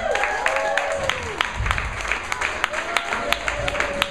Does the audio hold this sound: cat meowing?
no